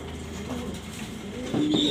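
Silver Giribaz pigeons cooing softly in a loft, low throaty coos rising near the end, with faint background noise and no talk.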